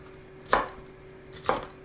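Two sharp knife chops strike a cutting board as chicken is cut into even pieces for Korean-style popcorn chicken, spaced about a second apart, close and clear with no talk.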